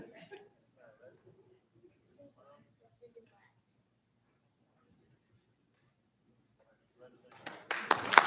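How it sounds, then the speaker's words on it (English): Applause from a school board meeting audience honoring the Smalley School Students of the Month bursts out loudly near the end, after a stretch of faint, quiet murmuring. "Another round of applause for all of our Smalley School Students of the Month."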